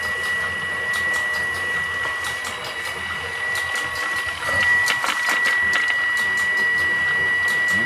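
Coil winding machine running steadily with a constant high whine and mechanical whirr, wire feeding as it spins, growing slightly louder partway through; no speech.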